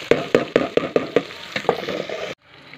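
Chopped tomatoes tipped into a pan of frying meat and vermicelli for seviyan pulao, giving a burst of sizzling with a quick series of stirring scrapes and clacks, then the sizzle cutting off abruptly near the end.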